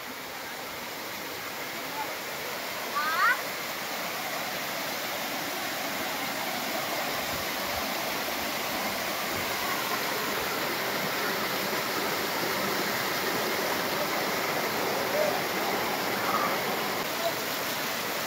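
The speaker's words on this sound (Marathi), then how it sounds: "जबरदस्त धबधबा हा." A small waterfall in the Konkan hills gives a steady, even rush of falling water that stays constant and fairly close throughout, with no other sound standing out.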